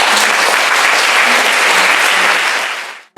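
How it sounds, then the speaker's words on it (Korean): Audience applause at the close of a live salon event pairing a Stradivarius violin with NFTs, sustained and loud for about three seconds before cutting off abruptly. "함께 해주신 네 분께 큰 박수."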